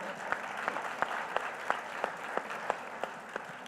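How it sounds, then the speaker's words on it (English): An audience at a health, innovation and technology summit applauds honorees from a Latino-owned Texas business, steady crowd clapping with a few sharp, regularly spaced louder claps standing out close by. "Let's give them a round of applause."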